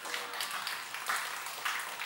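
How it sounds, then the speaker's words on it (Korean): A church congregation at a youth worship service claps together, a dense, steady patter of many hands that keeps going for about two seconds with slight surges in intensity. "이럴 땐 박수 치는 거야"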